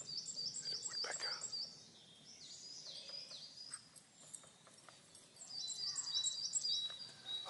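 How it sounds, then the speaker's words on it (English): A wild woodpecker calls in the open, giving bursts of high, repeated chirping notes at the start and again near the end, with faint taps and quieter outdoor background between. "There's a woodpecker."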